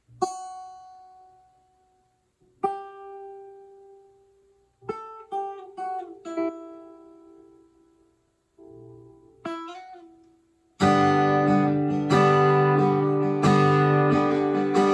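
Acoustic guitar: single plucked notes and chords ringing out with pauses, then a full, loud strumming pattern to finish.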